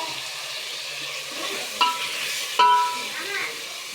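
Turmeric and ginger sizzling in hot oil in a pan, stirred with a couple of sharp spatula scrapes and knocks, close and fairly quiet, no talking.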